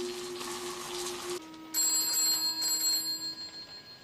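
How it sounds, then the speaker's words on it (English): A telephone rings in the TV show Sapphire & Steel, an electronic trill that breaks off and restarts over a quiet background, moderately loud with no talk. "How could a phone ring when they're all stuck in time?"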